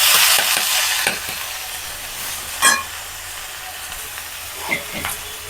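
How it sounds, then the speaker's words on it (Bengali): Radish pieces drop into potatoes already frying in a pan, giving a loud sizzle that swells at first and then settles into a quieter hiss, with a couple of sharp clatters from stirring. "এবারে স্টেন করা মূলোটা এই আলু ভাজার মধ্যে আমি দিয়ে দিচ্ছি"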